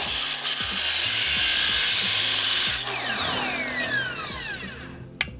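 A power saw cuts an aluminum diffuser bracket for an Acura Integra, giving a loud, sustained metallic whine with a steady motor drone. The pitch slides downward as the blade spins down, then a sharp clack ends it.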